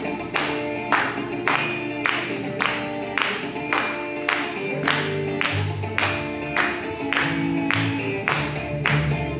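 A church congregation claps hands in steady unison during worship, about one loud clap per beat over a sung hymn with instruments, the rhythm even and continuous.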